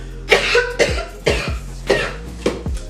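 A string of harsh coughs, about six bursts spaced roughly half a second apart, close and fairly loud with no talking.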